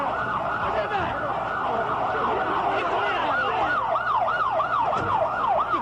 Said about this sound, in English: Virtually every siren in Washington is running during this period.